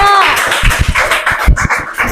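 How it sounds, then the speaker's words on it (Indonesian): An audience claps for group 3, uneven, somewhat sparse handclaps close by, with a voice heard briefly over them. "Ayo beri tepuk tangan dulu untuk kelompok 3."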